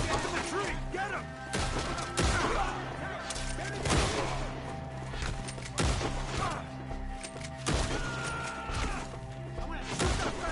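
Gunfire in Red Dead Redemption 2 during a forest shootout against Skinners posted up in the trees: repeated loud shots and impacts at irregular intervals over a steady game soundscape, with voices talking throughout.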